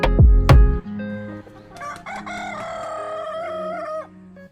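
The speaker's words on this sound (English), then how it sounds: "You hear the sound of roosters," Two loud, close rooster crows ring out in Coron, Palawan, Philippines, followed by longer crowing from other roosters farther off, with a faint cluck underneath.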